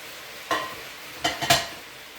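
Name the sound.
marinated beef frying in a pan over high heat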